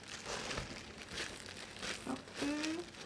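A plastic sheet is crinkled and rubbed as oil is spread over it while sticky rice cakes are made. The crackling rustle is close and continuous, with a few louder crinkles near the end.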